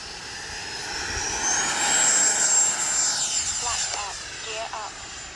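FMS Integral 80mm electric ducted-fan RC jet taking off with afterburner, a rising whine and rushing roar that swells then recedes over several seconds, with people talking nearby.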